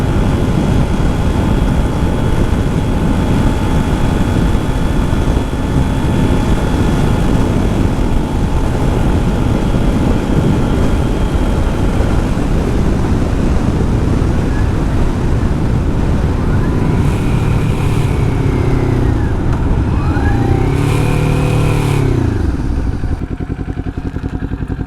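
A Kawasaki Z400 ABS motorcycle fitted with a cheap Amazon slip-on exhaust idles loudly and steadily, then revs twice near the end, each rev rising and falling in pitch.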